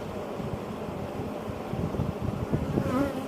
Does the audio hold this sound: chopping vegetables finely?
no